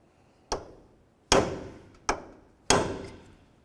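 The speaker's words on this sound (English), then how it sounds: "take a hammer and punch and peen the nut down into that slot" Four sharp metallic hammer strikes on a punch, peening a nut while replacing a 2004-2006 Scion xB front lower ball joint, evenly spaced with short ringing decays, close and clear with no voices.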